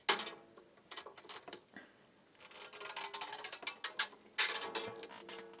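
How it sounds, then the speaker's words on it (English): A string winder cranks an acoustic guitar tuning peg counterclockwise, giving close, irregular ratcheting clicks and gritty rubbing in uneven bursts, with a louder scrape near the end and no talking. "pull it and get your winder, and you want to turn counterclockwise"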